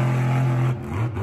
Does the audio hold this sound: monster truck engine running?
yes